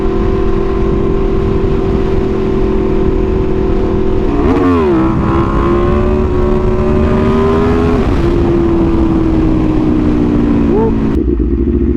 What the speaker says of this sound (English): Let's give y'all another little quick rev here.